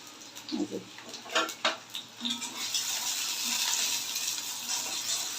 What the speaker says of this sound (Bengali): আগে আলুর চপের পেঁয়াজ মরিচটা একটু ভেজে নিই